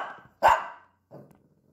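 A small Shih Tzu barks indoors at close range, one sharp loud yap followed by a softer, shorter bark a moment later, with a quieter whine-like sound just before.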